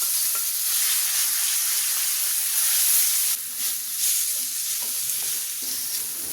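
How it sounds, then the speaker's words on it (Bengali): Marinated chicken sizzles loudly in hot oil in a pan, a dense, continuous frying hiss close by, briefly dipping and then resuming as it is stirred, with no voices. "তেলটা গরম হয়েছে, এখন আমি মাংসটা দিয়ে দিচ্ছি।"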